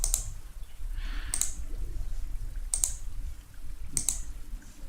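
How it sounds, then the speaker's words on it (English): Clicking on a computer during a live stream: four sharp, evenly spaced clicks about every 1.3 seconds over a low background hum, with no talking. "I'm so bad at clicking buttons"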